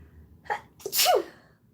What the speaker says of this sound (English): pandemic sneeze. I have seasonal allergies.